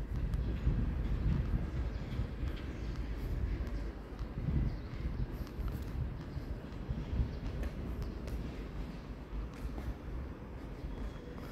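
An EMU3000 twelve-car electric multiple unit on a test run along Taiwan's Western Line produces a steady, continuous low rumble of wheels and motors throughout, with no speech.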